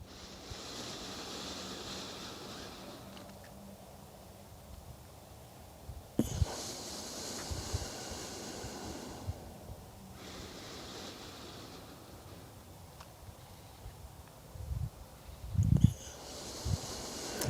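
Slow, steady exhalations during a qigong breathing exercise, each a soft airy rush that rises and fades over several seconds, close to the microphone, with a few faint bumps and rustles and no talk.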